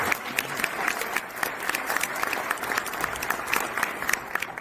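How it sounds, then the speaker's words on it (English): An audience at a diversity and inclusion gala applauds, sustained dense clapping from a crowd that fills the whole stretch at a steady level, with a faint voice beneath. "Please give the Inquirer a round of applause for convening us."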